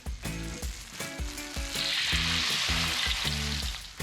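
Thin sliced food frying in a pan over a low flame, a steady sizzle with clattering stirring and tapping on top, close and fairly loud.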